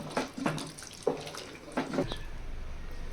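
Water is poured into two glasses of rice mixed with ground masala for a potato and fenugreek rice dish; after a few soft knocks, a steady close pour starts partway through and runs to the end.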